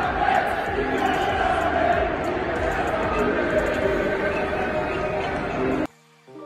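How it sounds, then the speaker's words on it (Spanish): Barcelona supporters chant in unison in a packed stadium, a loud continuous roar of voices that cuts off abruptly near the end, leaving brief quiet with a few tones. "Con intención de mofa, los culés cantaron el nombre del delantero del PSG"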